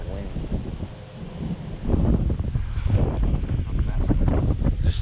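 Wind blowing outdoors by a creek on a golf course, a steady rushing buffet across the microphone that grows stronger midway, with faint voices mixed in.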